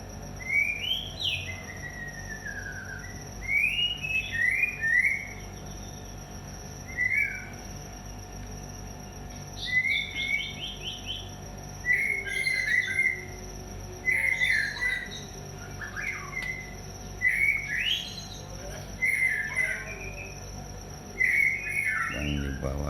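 A pair of Oriental magpie-robins (murai batu) in a breeding cage give repeated clear whistled phrases and chirps in bursts every second or two, close and bright over a faint steady hum.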